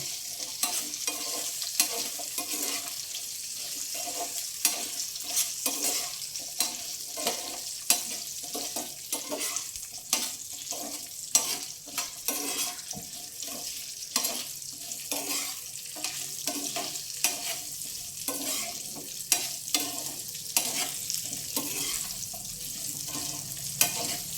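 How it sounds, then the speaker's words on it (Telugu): Carrots stirred and fried in a little oil for a carrot, coconut and tomato chutney: a steady sizzle under quick, repeated spatula scrapes and taps, close and continuous with no talking. "క్యారెట్ ఎక్కువగా వేయకూడదండి, జస్ట్ కొంచెం నూనెలో అలా వేయించి తీసేద్దాం."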